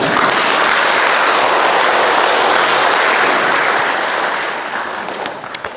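An audience applauds to welcome a lecturer to a talk, with sustained, loud, dense clapping that holds steady for several seconds and then begins to thin out and fade toward the end.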